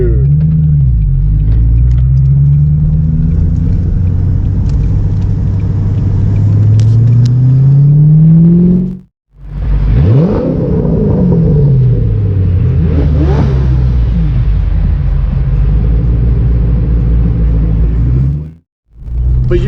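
A McLaren 600LT supercar revs hard in a tunnel, its engine roaring loud and close with rising and falling sweeps of pitch, echoing off the walls, broken by two brief silent gaps.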